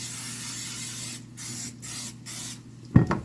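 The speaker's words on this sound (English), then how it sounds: "I'm going to go ahead and spray down my pie dish." A butter spray aerosol can hisses into a pie dish in several steady bursts, separated by short pauses, close up, ending with a clunk as the can is set down.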